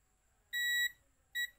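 A multimeter on continuity test against a motorcycle ignition switch gives two sharp electronic beeps, a longer tone then a short one, clear and alone over near silence.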